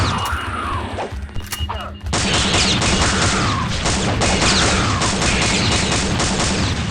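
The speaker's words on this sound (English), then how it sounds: "Ooh, what is this? Auto shotgun." An auto shotgun fires in the Aliens TC mod for Doom, giving heavy rapid blasts in a dense continuous barrage, loud and close, with game sounds over it.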